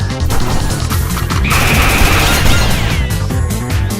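Loud explosion and crashing debris in Noel the Mortal Fate, a dense continuous roar of smashing and rattling impacts with a high whine rising midway, filling the whole span without talk.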